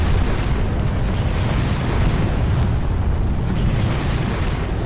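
Rocket explosions slamming into a hillside in the shooter game Far Cry, heard as a continuous loud rumbling roar of blasts with no clear break between impacts.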